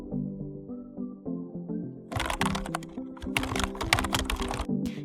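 Typing on a computer keyboard: after a quiet start with a soft background tone, a fast run of crisp key clicks and clacks follows, close and clear, with no talking.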